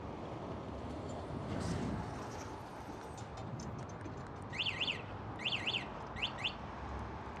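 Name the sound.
scooter anti-theft alarm sounding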